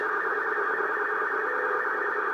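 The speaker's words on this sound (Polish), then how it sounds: "Coś odbiera, słychać warkot," A constant buzzing, droning hum of interference from an AOR AR8200 radio receiver, steady and unchanging throughout, with no voices.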